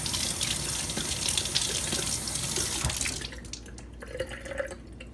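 Tap water runs steadily into a sink while broccoli sprouts are rinsed, a dense rushing stream that eases off near the end into lighter splashing and trickling.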